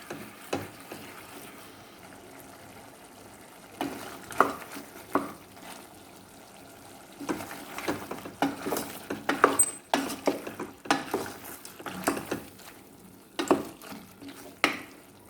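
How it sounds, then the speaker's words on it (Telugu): Pieces of country chicken fried over a raised flame in a pan, heard as scattered stirring scrapes and clatters over a soft sizzle, close, sparse at first and then busier, with no talk. "మంట కొంచెం పెంచుకొని వేసుకున్న మాంసం బాగా వేగేలాగా 4-5 నిమిషాల పాటు వేయించుకోవాలన్నమాట."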